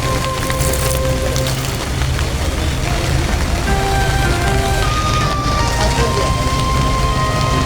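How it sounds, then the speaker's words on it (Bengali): Heavy rain pours steadily over a cattle market in the capital during the Eid animal fair, a dense, constant hiss with faint distant voices beneath it. "বৃষ্টি তো কমে না, বৃষ্টি তো কমে না"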